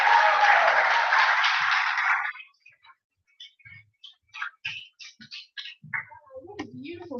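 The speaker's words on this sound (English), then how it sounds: "Another round of applause" Dense audience applause after a song at a charity music event fills the first two seconds, then stops abruptly; a host's voice follows in short phrases.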